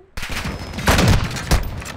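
Gunfire in the video game Call of Duty: Modern Warfare II, a loud burst of close shots with a dense volley near the middle and another sharp report near the end.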